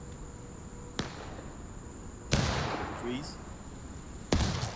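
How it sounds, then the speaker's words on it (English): Cannon fire in a Civil War battle video game sounds as three sharp, booming blasts spaced a second or two apart over a quiet background, with a voice briefly speaking. "Cannon hitting there"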